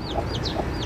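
Chickens in a backyard coop cluck in short repeated bursts, close and clear, with a faint high chirping of chicks over a steady low background hum.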